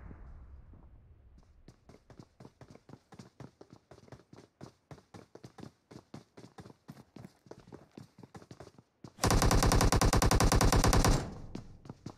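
Gunfire in the mobile game PUBG Mobile, loud rapid bursts of repeated shots in a steady rhythm, then a dense continuous roar of automatic fire for a couple of seconds before it stops.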